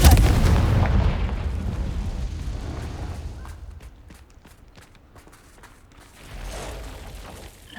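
A Confringo fire spell blasts in Hogwarts Legacy at the mouth of an Acromantula cave, a loud booming burst up front that rolls off into quieter rumbling, with a smaller swell near the end.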